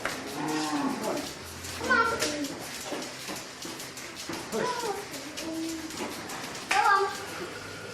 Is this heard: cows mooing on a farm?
yes